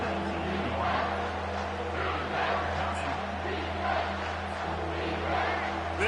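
Steady stadium crowd roar in a Madden football video game, a constant dense wash of cheering with a low hum beneath, holding at a moderate level throughout.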